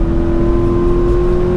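A 2020 Toyota 86 TRD Handling Package with a TRD exhaust pulls hard, its engine note steady and loud with a strong droning tone throughout, close by and with no voices.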